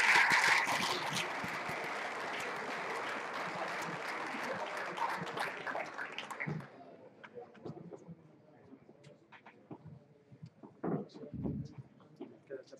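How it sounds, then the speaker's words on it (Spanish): Applause breaks out at a maze-solving robot contest at OSHWDem 2016, a crowd clapping fairly loudly for several seconds before fading to scattered claps and faint room noise. "Un fuerte aplauso para el altavoz."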